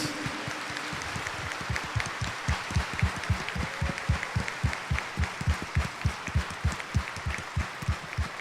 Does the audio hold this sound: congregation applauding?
yes